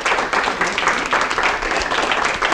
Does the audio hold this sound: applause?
yes